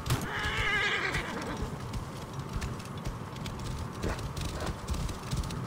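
A horse whinnies loudly near the start, then hooves clip-clop and shuffle nearby in Assassin's Creed Origins, set against wind and ambient game noise with no speech.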